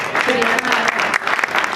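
An audience at a music session claps in a brisk burst of applause, dense and close, with voices faintly mixed in.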